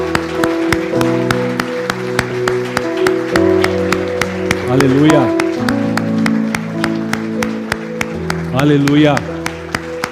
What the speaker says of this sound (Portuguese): Vamos aplaudir Ele ao nosso Deus.